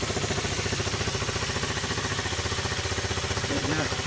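A Sinnis 125 Max 2 (Qingqi QM125) motorbike engine runs steadily at idle close by, a continuous rapid thrumming pulse with an even rhythm throughout.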